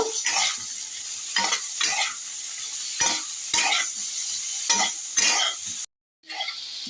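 Spice paste for a cauliflower curry sizzling in a hot pan while a spoon stirs it in repeated scraping bursts, close up, with a brief silent gap near the end.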